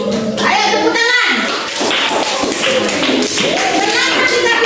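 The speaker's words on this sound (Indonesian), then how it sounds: "Ayo tepuk tangan." A classroom of children claps together after group scores are announced, a dense burst of hand claps near the listener with young voices chattering and calling out over it throughout.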